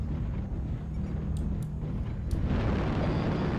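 Airstrike explosion in a video game, a deep rumbling blast that swells and rolls on steadily, heavy low-end boom filling the space without speech over it.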